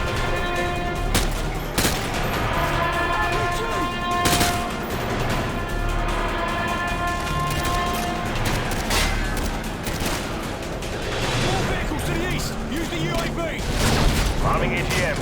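Repeated booming explosions and heavy gunfire from AGM missile strikes in Call of Duty: Modern Warfare 2, a dense continuous barrage with sharp blasts throughout, with radio voices speaking over the chaos.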